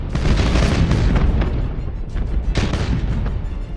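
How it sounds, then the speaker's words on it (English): Starship broadsides and explosions from the Battlefleet Gothic Armada space-combat game, a loud continuous barrage of deep booms and blasts with repeated heavy impacts, no talking. "Fire all weapons."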